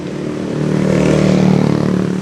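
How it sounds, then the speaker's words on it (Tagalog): Many motorcycles pass along a town street in Juban in the aftermath of Typhoon Rolly, making a steady, loud engine drone that swells toward the middle and stays strong to the end. "daming, daming motor."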